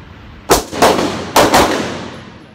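Gunshots fired at a shooting range target, two pairs of sharp, loud, close reports with echoing tails and a short pause between pairs.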